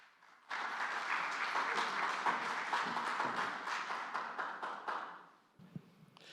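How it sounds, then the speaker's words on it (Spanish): A seminar audience in Mexico City, gathered for a condominium administration certification, bursts into a strong, sustained round of applause lasting several seconds before it tapers off. A faint murmur follows. "Démosle un fuerte aplauso"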